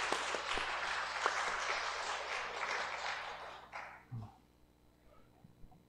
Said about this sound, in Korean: 우리 사랑속 다시 한번 축복의 박수 드릴까요?